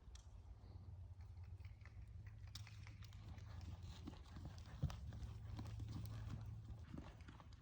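Faint, soft hoofbeats from a horse trotting, barely above a low steady background rumble, with no clear talk.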